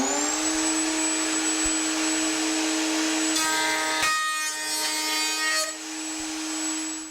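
A Kreg router table whines loudly and steadily as the bit cuts a groove in wood, the pitch shifting partway through as the cut bites into the workpiece.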